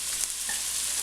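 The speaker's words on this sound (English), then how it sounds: "We're going to cook these till the butter gets brown" Chickpeas sizzle and crackle in butter as it browns in a pan, a steady close frying hiss with a faint stir or clink.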